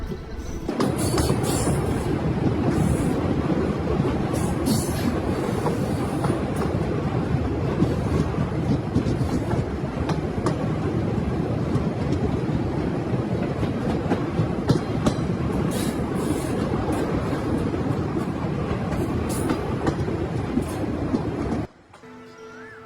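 Small three-coach train on the Jhansi railway line in India rolls steadily past, with continuous loud rumble and rhythmic clickety-clack of wheels over rail joints, faint squeals, for about twenty seconds before cutting off abruptly.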